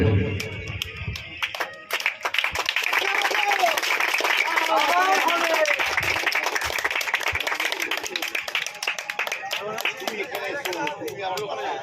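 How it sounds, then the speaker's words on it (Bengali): An audience claps at a pigeon race prize-giving ceremony, a sustained burst of scattered hand claps from a crowd mixed with chatter and a bird's warbling call, after brief talk at the start. "আপনারা একটু তালি দেবেন"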